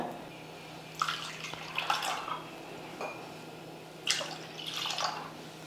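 Water is poured from a tumbler into curd to thin it into buttermilk, giving a few short splashing gushes and trickles separated by quiet pauses.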